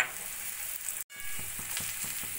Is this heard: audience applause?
no